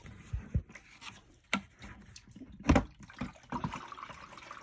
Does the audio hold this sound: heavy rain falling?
no